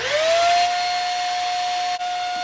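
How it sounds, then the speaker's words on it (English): A vacuum cleaner of about 450 watts spins up with a rising whine, then settles into a steady loud hum and airy rush, with a brief dip near the end. "Here is the vacuum. All right, let me go ahead and kick it on."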